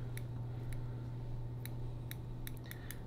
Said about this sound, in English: all I do is just rotate the vise with my scissors and just make a few cuts here.